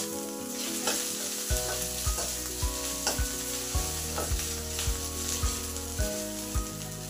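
Bay leaves and dried red chillies sizzle steadily in hot oil, with repeated scraping stirs of a spoon in the pan at a regular pace, close and clear with no talking.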